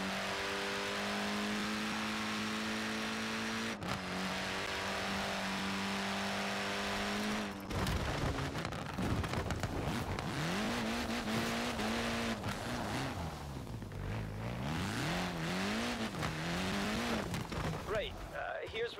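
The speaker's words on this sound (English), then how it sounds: "you get to drive the courtesy car" A courtesy car in the Forza Horizon 4 racing game drives with a sustained engine drone, then revs and shifts up and down in sweeping pitch changes while voices talk over it.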